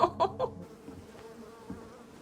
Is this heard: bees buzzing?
yes